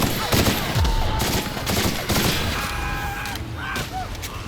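Rapid energy-weapon fire from an N-ray gun in The Outer Worlds, a dense burst of loud shots with game effects and tonal whines layered on top, continuing for several seconds.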